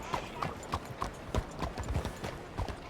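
A horse's hooves clip-clop at a steady walk in Red Dead Redemption 2, an even rhythm of soft thuds under quiet in-game voices.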